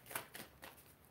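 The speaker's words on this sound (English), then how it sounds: "Let's see, one more shuffle." A deck of tarot cards is shuffled in three quick riffling bursts, soft and close, with no talking over it.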